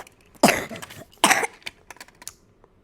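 Two sharp coughs close to the mic, about a second apart, followed by small clicks and faint rustling in an otherwise quiet room.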